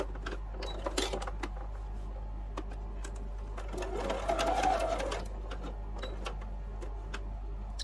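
A sewing machine stitches a seam on a heart quilt block for a table runner, a steady close mechanical whir running throughout and rising briefly in the middle, with no talking.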